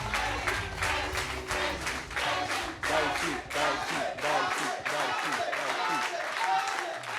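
An audience applauds a magician at a live show, a sustained burst of dense, close clapping with rhythmic hand claps and crowd noise, while a voice speaks over it.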